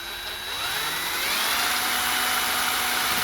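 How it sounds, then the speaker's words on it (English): A power drill whines steadily, boring a small angled hole into a plastic dash of a Nissan D21 Hardbody Pathfinder truck, loud and close, rising in pitch as it spins up, with no talking. "I'm going to drill this little hole right in the middle, right here at an angle going down."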